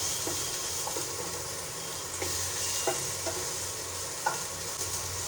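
Soya chunks frying lightly in oil make a constant low sizzle, with soft stirring taps and scrapes landing roughly every second, close up and free of speech.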